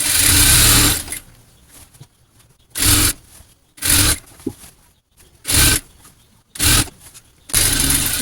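A sewing machine runs in five or six loud, close bursts of a second or so each while stitching a skirt waistband, with quiet pauses between runs.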